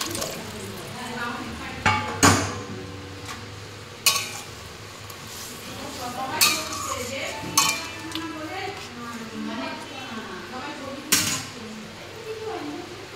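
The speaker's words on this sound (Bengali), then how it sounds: "এবার গ্রেভিটা ফুটতে দেবো একটু। মাছগুলো দিয়ে দেবো।" Fish added to a simmering gravy in a pot, heard as a soft background sizzle with several sharp clanks and scrapes of utensils against the pot, while a voice talks over it.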